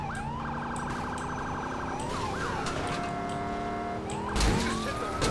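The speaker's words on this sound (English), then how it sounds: "you guys just stop as soon as you hear my sirens" A police car siren in a video game wails and yelps in rapidly changing patterns over engine and traffic noise, loud and continuous, with a thump near the end.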